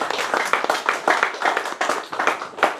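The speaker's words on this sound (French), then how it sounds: "Est-ce qu'on veut l'applaudir ce matin?" A church congregation clapping during a Sunday morning service, loud, close and rhythmic, with sharp repeated claps in a quick, steady beat that runs unbroken to the end.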